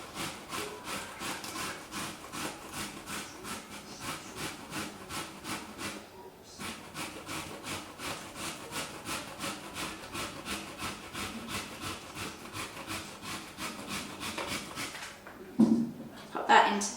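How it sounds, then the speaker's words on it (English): Zucchini is rubbed against a grater in a fast, even rhythm of soft rasping strokes for over a dozen seconds, pausing briefly midway, with a bit of clatter near the end. "you just want to grate the zucchini."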